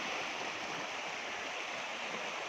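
The flooded Sutlej river, swollen by inflow from the Swan river, rushes past in a dense, continuous roar of fast-moving water that stays steady and loud throughout, with no voices.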